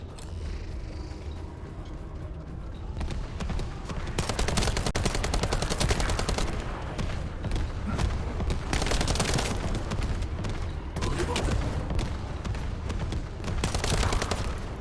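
Assault rifle fire in a video game, long sustained automatic bursts of close, loud shots filling the stretch, broken by brief pauses between volleys.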